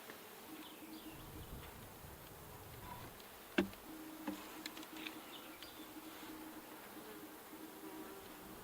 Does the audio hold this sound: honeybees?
yes